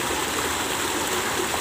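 A small river flows steadily at a fishing spot, a continuous soft, even rushing and trickling of water with no talking, moderately quiet throughout.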